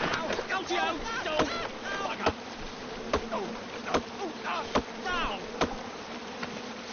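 Swarm of angry bees buzzing around a tree in the King's Quest game, a steady insect drone punctuated by sharp chopping knocks, with voices talking over it.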